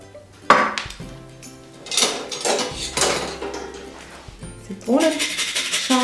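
Rum is added to yeast dough for a poppy seed braid in a bowl, with clinking and knocking of bowl and utensils, scraping and a sharp tap, while a person talks.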